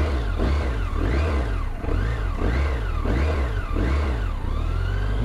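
A BMW K1 motorcycle's fuel-injected engine runs loud and close, rising and falling in repeated rev swells over a steady low rumble, with no talk.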